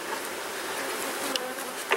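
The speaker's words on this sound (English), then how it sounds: "I'd like to see this hive with more bees in it heading into winter." Honey bees buzz steadily around a beehive as it heads into winter, a dense continuous hum of many insects with a couple of louder passes close by.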